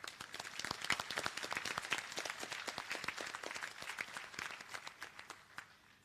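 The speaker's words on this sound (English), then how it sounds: "Please give them all a round of applause." An audience at the Seychelles Business Studies Academy 2022 graduation ceremony applauds the graduates, distinct claps rising quickly then slowly thinning and fading toward the end.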